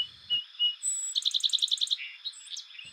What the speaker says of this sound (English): Here's a song sparrow from Kentucky.